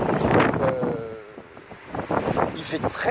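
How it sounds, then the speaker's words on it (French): Outdoor wind in Spain buffets the microphone with a steady, rough rumble that swells and eases across the whole stretch, loud and close, with no clear voices over it. "Aujourd'hui, il y a du vent."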